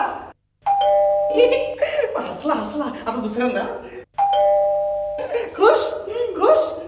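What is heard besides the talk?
doorbell ringing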